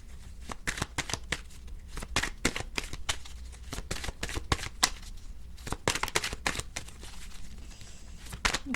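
Tarot cards shuffled for a reading, a steady run of quick crisp riffling and slapping bursts heard up close with no talking.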